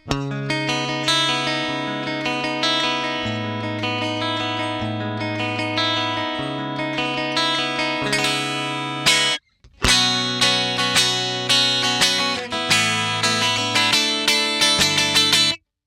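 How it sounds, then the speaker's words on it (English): Clean electric guitar through a Fractal FM3 with no distortion and little amp character plays chords and single notes, ringing and articulate, with a brief pause midway. "There's basically no distortion and not a whole lot of amp character going on there."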